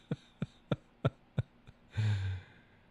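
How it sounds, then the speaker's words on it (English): A man on a live show clears his throat in a series of five short, sharp, close bursts at a steady rhythm, followed by one longer, rougher rasp. "I have to clear my throat."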